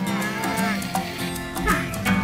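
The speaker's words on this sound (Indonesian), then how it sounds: "Saatnya memulangkan kerbau ke kandang." A water buffalo being led back to its pen lets out a drawn-out, low moo close by, with faint background noise around it.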